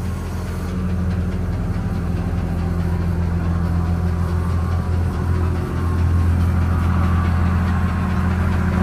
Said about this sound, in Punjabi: ਆਵਾਜ਼ ਦੇਖਿਓ ਇੰਜਣ ਦੀ ਕਿੰਨੀ ਸੋਹਣੀ ਆ ਵੀਰੇ ਸਟਾਰਟ ਕਰਿਓ